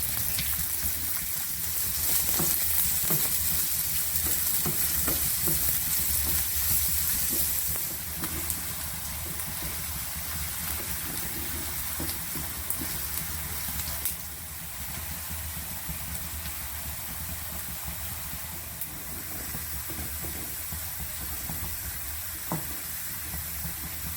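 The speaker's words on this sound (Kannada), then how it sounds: "ಸ್ಟವ್ ಮೇಲೆ ಬಾಣಲೆ ಇಟ್ಟು 3ರಿಂದ 4 ಸ್ಪೂನ್ ತುಪ್ಪ ಹಾಕಿ ಸಣ್ಣದಾಗಿ ಕಟ್ ಮಾಡಿರುವಂತಹ 2 ನೀರುಳ್ಳಿನ ಹಾಕ್ಕೊಂಡು" Chopped onions deep frying in a few spoonfuls of ghee in a pan on a stove for chicken biryani, a steady close sizzle with occasional stirring scrapes throughout, no voices.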